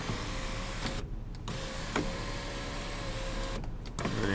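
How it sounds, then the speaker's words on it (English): A steady electric motor whirs with a faint mechanical hum, a small click partway through, as the power sunroof of a 2007 Chevy Silverado slides open close by. "power sunroof."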